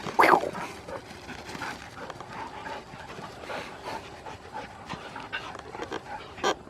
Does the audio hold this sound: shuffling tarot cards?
no